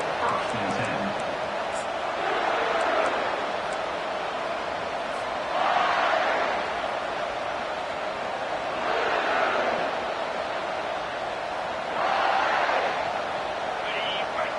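A stadium crowd at a Mississippi State vs Kentucky college football game roars steadily in the distance, swelling in repeated waves beneath a commentator talking.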